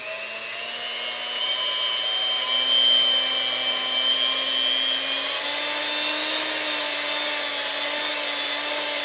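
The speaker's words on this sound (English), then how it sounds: "We got a mixer." An electric mixer churns gesso for canvas painting, a steady loud motor whine with a slight upward drift in pitch, running continuously and alone.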